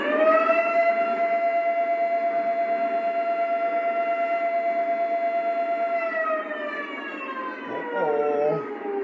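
Horn number 5 on a Lionel Legacy model train sounds as a loud, sustained siren-like wail that holds steady for several seconds, then slides down in pitch and warbles briefly before ending.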